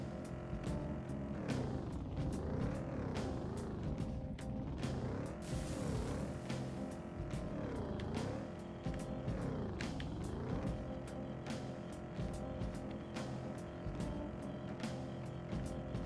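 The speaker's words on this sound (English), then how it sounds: "Like the car sound, it's fun." A car engine from the video game Persona 5 Royal drones steadily throughout, with repeated sweeping rises and falls in pitch like revving, loud and continuous with no speech.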